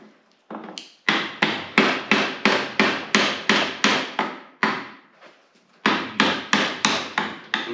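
Steady, rhythmic copper hide hammer blows ring out close by while stripping a GT40 gearbox, a quick run of strikes, a short pause with faint rustling, then another run of evenly spaced hits.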